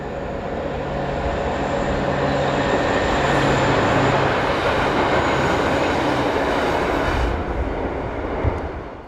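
A Class 500 intercity trainset rolls past on the Lugano to Zurich service, a loud, close, sustained rush of wheels and wind that eases off near the end.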